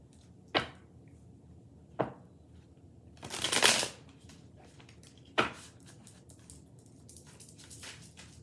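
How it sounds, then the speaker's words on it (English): A deck of tarot cards is shuffled in four short, crisp riffles spaced a second or two apart, with the third burst longer and fuller. Each sounds close and clear against a quiet room. "These cards don't want to shuffle correctly."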